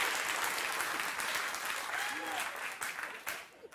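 A studio audience applauds steadily at a talk show taping, broadband clapping that holds loud and even before thinning out near the end, with a faint voice briefly underneath.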